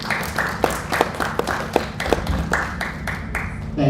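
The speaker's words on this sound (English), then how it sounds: "Let's give him a round of applause." Scattered, uneven clapping from a small audience at a university speaker-series event, several hands striking in a loose rhythm for a few seconds, moderately close with no voices over it.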